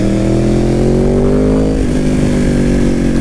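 A cross-plane Yamaha R1 motorcycle engine revs loudly and close by, pitch rising smoothly then settling into a steady high idle with a rough, throbbing tone.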